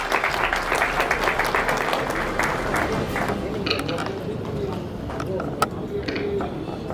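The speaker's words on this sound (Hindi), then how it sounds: "जोरदार तालियां डीआईजी सर के लिए।" An audience at a ceremony gives hearty applause for a DIG, many hands clapping steadily and fairly near at first, then thinning and fading into scattered claps and murmur.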